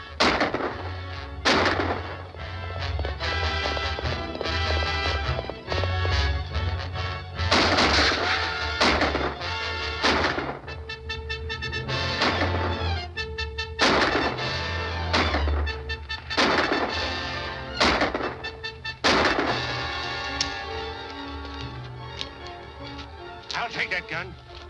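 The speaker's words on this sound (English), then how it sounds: "Keep shooting, but be careful." Gunfire in an old Texas Rangers film serial, loud repeated sharp shots and bursts in irregular volleys over a rumbling music score, with voices calling out between the shots.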